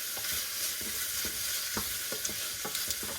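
French onion soup with venison stirred in a pan, a soft continuous sizzle with repeated light scrapes and taps of the spoon, close and fairly quiet, with no talking.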